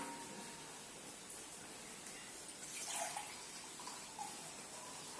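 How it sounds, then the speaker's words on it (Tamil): Water is poured into a pot of chicken biryani in a home kitchen, giving a steady, soft broadband splashing wash that swells briefly midway, fairly faint and with no talk over it. "இப்போ தண்ணி தான் ஊற்றிட்டு இருக்கோம்."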